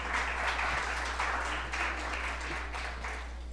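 An audience at an electrical work safety lecture gives a speaker a round of applause, dense continuous clapping from many hands under a steady low hum, fading slightly toward the end.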